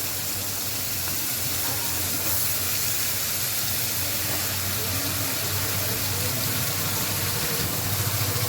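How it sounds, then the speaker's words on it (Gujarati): Potatoes, brinjal and tomatoes go into a pan of tomato gravy for a simple Kathiyawadi undhiyu, giving a steady, even sizzling hiss that holds from start to finish with no breaks. "હવે હું નાખું છું બટેટા, રીંગણા, બટેટા, રીંગણા ને ટમેટા"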